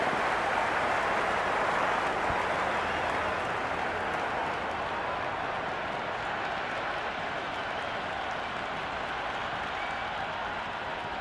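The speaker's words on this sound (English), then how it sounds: "It's the most enthusiastic crowd you could ever see right now" Steady roar of a stadium crowd in the cricket game Cricket 26, a continuous dense wash of cheering and applause with faint commentary underneath.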